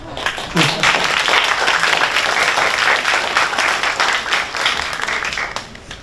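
A church congregation at a missionary dispatch service applauds loudly and continuously, a close, dense clatter of many hands that tapers slightly at the end, with a voice briefly audible at the start.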